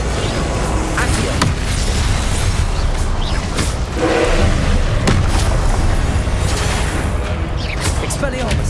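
Repeated Confringo blasting-spell explosions in Hogwarts Legacy gameplay, a steady barrage of booming impacts and crackling bursts that stays loud and dense throughout, with chanted spell incantations over them.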